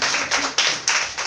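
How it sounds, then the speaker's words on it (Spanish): A church congregation claps in praise during a baby shower gathering, a few loud rhythmic claps about every quarter second, close and steady with no talking over them. "Démosle palmas al Señor"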